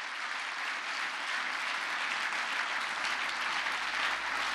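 A church congregation applauding steadily and loudly, a dense, continuous wash of clapping with a faint crowd murmur and no distinct voices.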